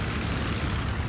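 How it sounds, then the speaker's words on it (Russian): A helicopter spools up for takeoff in the video game ArmA 2, a loud, steady rotor and engine drone filling the short moment with no voices. "Это вертолет. Ну, вот он взлетит сейчас"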